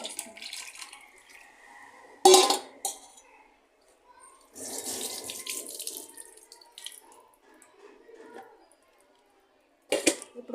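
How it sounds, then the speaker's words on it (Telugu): Bitter gourd being rinsed in plain water at a kitchen sink: running tap water splashes in several bursts with quieter handling between them, close and clear, with no talk. "ఇప్పుడు మామూలు వాటర్ వేసి కడగాలి."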